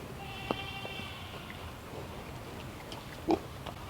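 Pigs grunt and oink softly in a farm pen, a few short snorts scattered over a quiet outdoor background.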